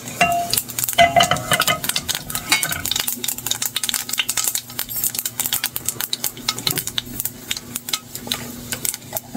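Whole cumin seeds crackle and fry in hot oil in a home kitchen, giving a busy sizzle broken by frequent sharp spoon scrapes and stirring clicks, close and fairly loud throughout with no talk.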